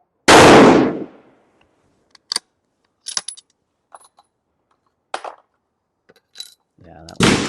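Rifle fitted with a barrel tuner fires a single loud, close shot that decays quickly, followed by scattered faint clicks and handling noises, then a second loud onset at the end.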